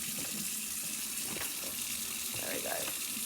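Water runs steadily from a sink tap while a feeding pot is washed, a continuous close splashing stream with brief gurgles and clinks of the pot under it.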